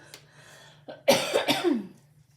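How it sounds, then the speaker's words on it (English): One loud, harsh cough close to the microphone, a couple of rough bursts that trail off, with quiet room noise before and after. "I didn't mean to cough into the mic like that"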